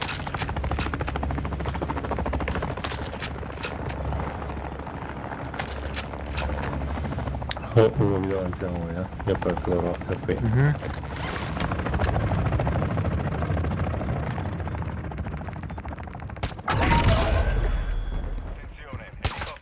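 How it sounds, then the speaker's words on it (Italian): Game combat in DMZ on the Ashika map: an enemy support helicopter's rotor drone builds under repeated gunfire bursts and sharp impacts, with people talking over the noise. "Attenzione, elicottero di supporto nemico in avvicinamento"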